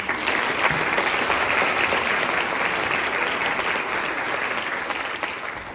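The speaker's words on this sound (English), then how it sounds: "So let's give her a round of applause." An audience at a Christmas concert applauds a pianist, steady dense clapping filling the room for several seconds and easing slightly toward the end, with no voices over it.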